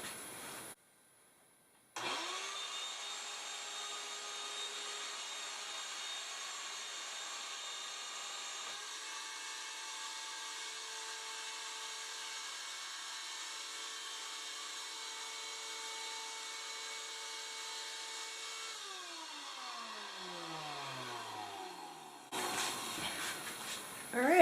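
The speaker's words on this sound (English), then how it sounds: "I'm going to turn the vacuum on and see what happens." A vacuum pump on a mold press machine switches on and runs as a steady, faint mechanical hum with a constant drone for about twenty seconds, then winds down with a falling pitch before shutting off.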